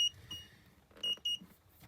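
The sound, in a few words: Dometic refrigerator alarm beeping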